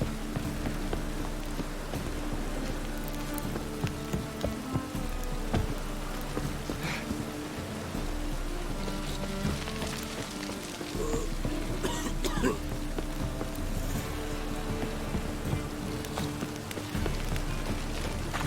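Rain in The Witcher 3: Wild Hunt video game, a steady patter over a low, dense backdrop of game ambience, with scattered brief clicks and thuds, and no speech.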